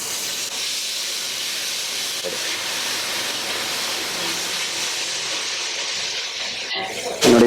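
Ginger garlic paste frying in a pan for a hotel-style aloo dum potato curry: a steady, close, bright sizzling hiss throughout, ending in a brief louder clatter.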